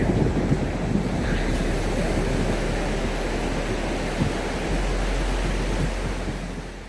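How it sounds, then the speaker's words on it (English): Sea waves roar onto the shore near Konark and Chandrabhaga in a constant broadband wash, loud and close, with wind buffeting the microphone throughout and no voices. "Walking back along the roaring shore line"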